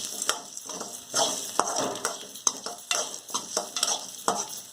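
Grated coconut sautéing in a pan for garlic kuzhambu, stirred with a spoon in a steady series of scraping strokes over a light sizzle, close and moderately loud, with no voices.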